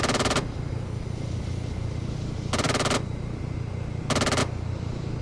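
Three bursts of rapid automatic gunfire from a weapon aimed at a target, each a short, loud, fast-rattling volley separated by a couple of seconds of engine-like drone.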